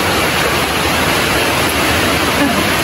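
A river near farmland pours past in a dense, even roar, close and loud throughout the short span, with no other sounds standing out.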